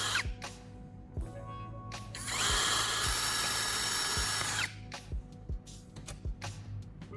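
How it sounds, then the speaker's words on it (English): A power drill bores holes into a plastic phone charger casing: short clicks and handling noises, then one sustained high whine of the drill for about two seconds, followed by more scattered clicks and taps. "I'm going to use a drill to create several small holes in the plastic casing"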